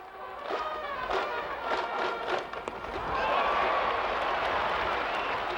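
A Japanese baseball stadium crowd at a Hanshin Tigers game claps and cheers, with scattered claps and shouts building into a sustained, loud roar of applause over the second half.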